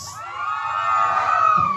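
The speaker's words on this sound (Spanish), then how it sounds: "Vamos a ver el grito de los niños." Group of children shouting together at a street inauguration in Livingston, Guatemala, producing one long, sustained outdoor cry that swells and then fades.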